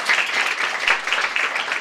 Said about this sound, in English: Yes, we can all clap for you.